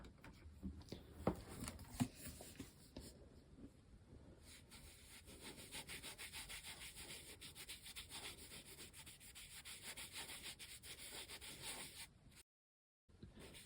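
Sticker residue is rubbed off a book with Goo Gone, a steady, close and quiet scrubbing friction with a rapid back-and-forth rhythm that runs almost continuously, briefly stopping near the end.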